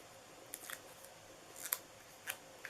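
Several crisp scissor snips cutting baker's twine during craft work on a Valentine treat box, short clicks spaced irregularly and fairly quiet, no talking over them.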